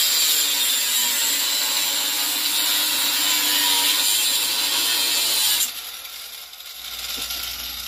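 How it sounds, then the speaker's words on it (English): Harsh rasping of cutting and grinding through old, repeatedly welded exhaust pipes under a Mustang, loud and continuous for several seconds, then cutting off abruptly and leaving a quieter, duller mechanical hum. "Junior's going to start grinding and cutting all this off"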